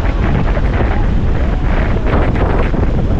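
Strong, steady wind on a beach at Casiguran, Philippines, roars and buffets the microphone without letup, a loud, dense rush of noise.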